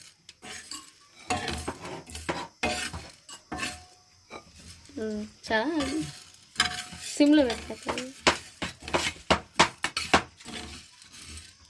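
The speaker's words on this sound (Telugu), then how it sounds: "ఈ విధంగా దోరగా వేయించుకోవాలి" Whole spices for garam masala are dry-roasted in a pan, stirred with a utensil that scrapes and clinks against the metal under a soft sizzle, with someone talking at intervals.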